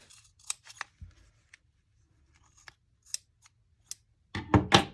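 Scissors snip fabric pattern pieces for a Squishmallow plush, with a few scattered soft cuts and then a close, loud burst of rapid snipping near the end.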